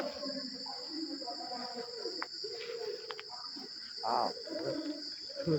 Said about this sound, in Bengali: ঝিঝি পোকার ডাকও শোনা যাচ্ছে